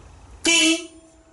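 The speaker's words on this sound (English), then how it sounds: "Let's try the horn." A single loud horn blast from a Peugeot 206 WRX rally car build, about a third of a second long, sharp onset and steady tone, fading with a short echo into quiet.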